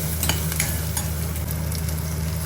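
Onions sautéing in hot oil with curry leaves and ginger-garlic paste for an Afghani chicken curry, giving a loud, steady sizzle throughout with a few stirring scrapes and no talking.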